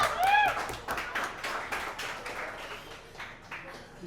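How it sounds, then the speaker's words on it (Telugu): A single audience member claps at a Telugu stand-up comedy show, a run of sharp, fairly even claps that fade and slow toward the end, soft and a little distant, with no other sound on top. "నువ్వెందుకు చప్పట్లు కొడుతున్నావు?"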